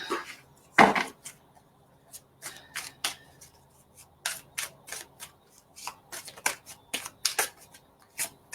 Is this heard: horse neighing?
no